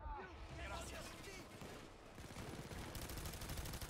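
A turret in Payday 2 fires rapid bursts of automatic gunfire amid chaotic shooting, sharp cracks clustering into a steady rattle toward the end, with people talking over it.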